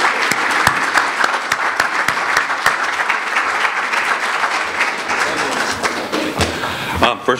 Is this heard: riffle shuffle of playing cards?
no